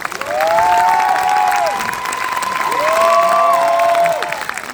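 An audience at a film premiere applauds actor Jonathan Cohen, loud sustained clapping and cheering with whoops and rising shouts over the crowd.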